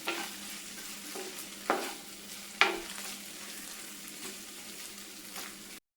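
Okra frying in a pan with ground spice paste stirred in, giving a steady soft sizzle with a few sharp clinks of the spoon against the pan, heard alone without talk.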